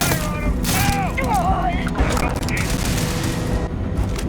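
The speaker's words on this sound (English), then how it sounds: "You throw grenades, they throw grenades." Grenade blasts and gunfire rage in a Starfield space battle, with dense booming bursts and rattling shots layered under continuous noise, music-like tones and a few warbling effects.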